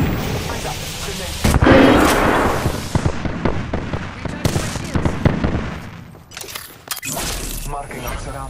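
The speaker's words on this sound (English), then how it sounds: "They're shooting at us." Gunfire from an Apex Legends match, with loud shots and bursts cracking close at irregular intervals over a dense mix of game effects, while a voice talks throughout.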